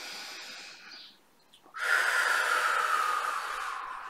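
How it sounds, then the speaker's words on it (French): A deep inhalation during a guided breathing exercise: a soft breath fades out, a brief pause follows, then a long, strong airy intake draws in close to the microphone and holds steady to the end. "Et vous prenez une profonde inspiration."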